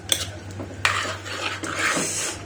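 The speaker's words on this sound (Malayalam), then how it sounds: "സോ ഞാനങ്ങ് ഇളക്കുക." A metal spoon stirs mustard seeds fried in olive oil in a pan, sharp clinks and scrapes against the pan close up over a low hum, with no voices.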